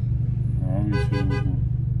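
Car horns honk in city traffic, a short cluster of about three quick toots heard from inside a moving car over a steady, loud engine and road rumble.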